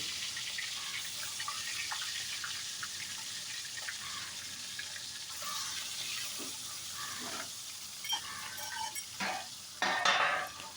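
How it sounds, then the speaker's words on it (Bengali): Folui fish fry in hot oil in a wok with a steady, close crackling sizzle throughout, and a few louder spits and clinks near the end. "চলো মাছগুলো চটপট করে ভেজে নিই"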